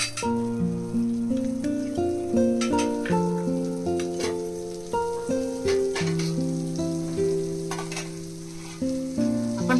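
Butter sizzles on a hot tawa griddle while cheese pav bhaji is being made, a steady frying hiss beneath melodic background music, with no one speaking.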